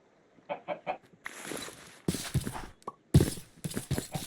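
Chickens cluck in the video game RLCraft, a Minecraft modpack: a few short soft clucks, then busier bursts of squawking and clucking mixed with game noise, fairly quiet overall and with no talking.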